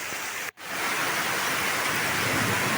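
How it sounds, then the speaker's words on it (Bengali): Heavy morning rain pours onto a tin roof in a steady, dense hiss, broken only by a split-second gap near the start. "সকালে আবার বৃষ্টি হচ্ছে"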